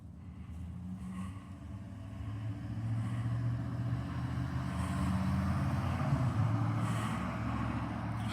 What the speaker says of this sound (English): Truck just drove by me.